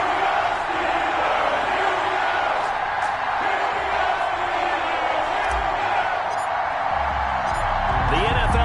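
A stadium crowd cheering ahead of a Kansas City Chiefs versus Pittsburgh Steelers matchup in an EA Sports NFL game, a steady dense roar with whoops and shouts, with a commentator's voice over it throughout.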